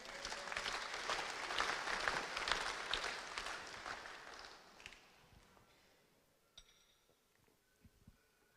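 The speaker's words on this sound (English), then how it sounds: "Give a clap offering unto the Lord." Congregation applause during a Fijian church service, a dense sustained burst of clapping for about five seconds that then thins out and fades into scattered claps and a few clinks in a quiet room.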